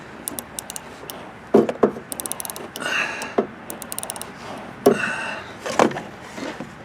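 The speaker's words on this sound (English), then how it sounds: "wrench on, turning, loosening." A wrench loosens a bolt on an Onan Marquis RV generator. Quick bursts of small metallic ratcheting clicks are broken by occasional clanks and scrapes, close and moderately quiet.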